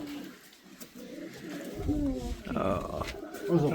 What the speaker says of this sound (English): A nice white, pure white pigeon, eh?